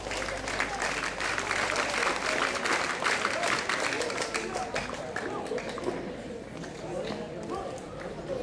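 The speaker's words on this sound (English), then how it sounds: "How about giving them another round of applause?" A crowd at a daylight campfire gathering in San Jose applauds steadily, a dense wash of clapping that holds for the whole stretch, with a voice faintly audible underneath.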